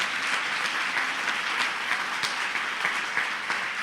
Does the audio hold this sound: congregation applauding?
yes